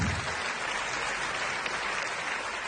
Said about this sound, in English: Big round of applause for him being so honest.